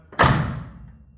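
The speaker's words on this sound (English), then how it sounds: "Like I said, John, when I closed the door with the new one," A 1972 Chevy Nova car door slams shut with a single solid thud fitted with a new Dorman striker pin, close and loud, then fades briefly.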